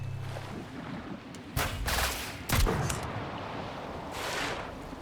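Gunfire from a player-built Destroyer vehicle in Trailmakers, a few sharp bursts of shots over a low background rumble, fairly faint overall.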